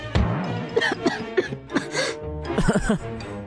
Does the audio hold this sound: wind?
no